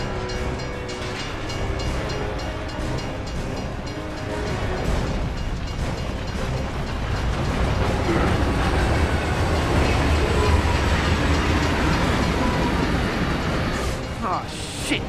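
A train approaches through a tunnel in Gears of War 3, a rumbling rail roar swelling louder and nearer with clattering wheels, while voices shout over it.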